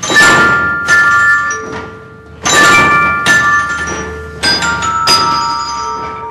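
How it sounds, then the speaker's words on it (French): Carillon bells played in a French tower, ringing out in bright struck strokes with long sustained ringing tones, several clustered bell strikes recurring in phrases, close and loud with no talk. "On apprend le carillon comme le piano."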